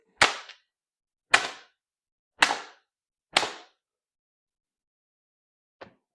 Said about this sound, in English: a flogger is loud. A flogger sounds like it hit hard, like it hurt, but it didn't.